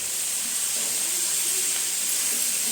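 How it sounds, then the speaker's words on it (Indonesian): Chives fry in a pan while being stirred, giving a loud, steady, close hiss without pause. "Kita aduk-aduk nih bawang kucainya"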